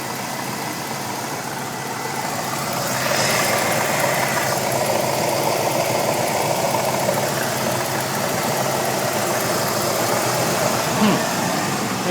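A 1982 Cadillac hearse with a 6-liter 368 V8 idles steadily, a continuous mid-range engine rumble that rises slightly after a few seconds and holds at a higher idle.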